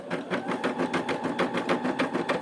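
A Brother SE 600 embroidery machine stitches a name into a split design, its rapid, even needle rhythm of close repeating clacks and a steady whir running on without pause and without talk.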